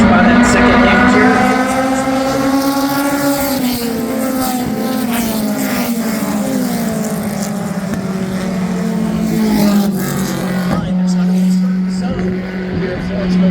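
Race cars launching on the opening lap at Florence Motor Speedway during the Ice Breaker 125, a loud sustained engine drone with rising pitch as the field accelerates, heard under continuous commentary.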